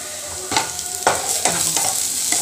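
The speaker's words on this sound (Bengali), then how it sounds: "পেঁয়াজটা ভালো করে ভেজে নিই," Onions frying in a pan for a home-cooked dal, with a steady sizzle broken by several distinct scraping stirs of a spatula, close and clear.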